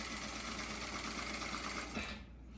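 A sewing machine stitching the neckline seam of a blouse runs in a fast, steady whirring hum up close, then stops near the end.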